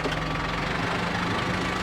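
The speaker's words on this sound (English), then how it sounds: "we just put the tractor sideways on" A tractor engine idles steadily, parked sideways on a downhill slope, a continuous low rumble with a faint knock, close and loud, with no talk.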